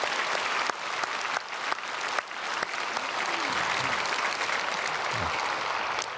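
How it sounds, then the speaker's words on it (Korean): A church congregation at a Sunday worship service at Myungsung Church applauds to welcome newcomers, a sustained, even wash of clapping with a few sharper claps standing out, filling the whole stretch. "우리 박수로 환영하면 감사하겠습니다"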